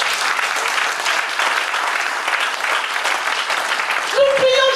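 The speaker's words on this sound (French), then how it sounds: "est-ce qu'on peut acclamer pour les Seigneurs?" Sustained applause from a church congregation praising the Lord, a dense steady wash of clapping with a voice rising over it near the end.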